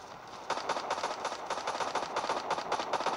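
A machine gun in the Guns of Boom shooting game fires sustained rapid bursts, a dense rattling stream of shots, loud and continuous.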